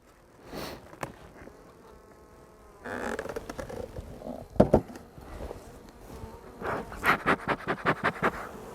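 Honeybees in a small-scale, queenright colony buzz as the hive is handled and taken apart, a fluttering drone with sharp passes of wings close by, knocks and handling noise mixed in, and no voices.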